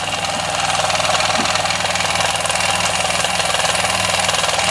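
A Weeden model toy steam engine with a lead flywheel runs steadily, its rapid, even chugging and mechanical rattle continuing close and unbroken throughout.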